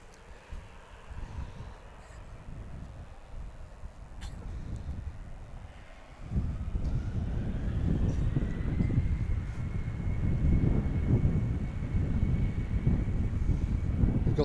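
An Austrian Airlines Embraer 195 jet airliner on the runway, a low broadband roar that swells partway through and holds steady under light wind noise, heard from a moderate distance.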